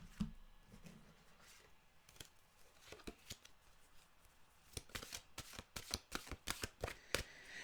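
Mantra cards being shuffled by hand: crisp papery riffles, sparse and soft at first, then a faster run of sharp, closely spaced snaps toward the end, with no talking.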